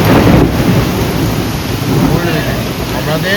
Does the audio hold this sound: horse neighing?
no